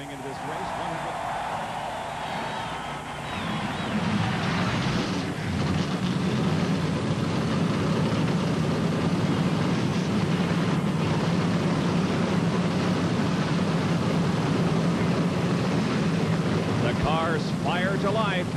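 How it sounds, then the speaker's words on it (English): Stock car engines roar to life before the 1992 Miller Genuine Draft 500 NASCAR race, a dense engine drone that swells after a few seconds and holds steady and loud, with a voice talking over it. "Cars fire to life as we get set."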